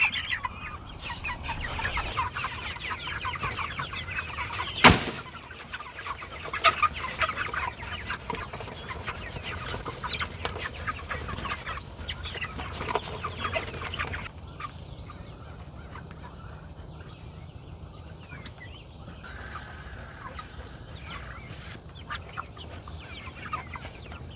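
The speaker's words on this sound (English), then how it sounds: "how much chickens and turkeys drink water" A flock of chickens on a Virginia farm clucks and chatters continuously nearby, with scattered louder squawks and a brief sharp knock amid the steady barnyard murmur.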